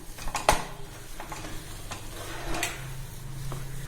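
Grated coconut stirred into thiruvathirai kali in a pan, giving a few close scraping strokes of a spoon against the pot with soft sizzling in between, brief and moderately loud, no speech.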